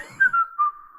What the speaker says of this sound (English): just whistling